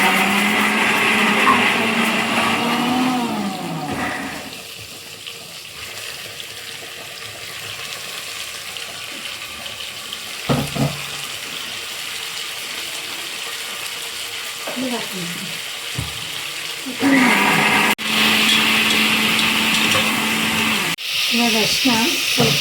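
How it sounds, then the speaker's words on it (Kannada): A kitchen mixer grinder whirs loudly while grinding cooking ingredients in a home kitchen, running in several bursts with pauses between, a high whining buzz over faint background clatter. "ಇದನ್ನ ಇವಾಗ ರುಬ್ಕೊಂಡು ಬೇಡೋಣ."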